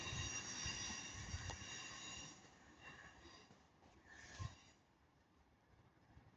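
A Northern class 331 electric train passes at Ardwick, heading for Manchester Piccadilly, with squealing wheels, tonal whine and rumble. It is moderately near and fades toward the end, with a brief clunk midway.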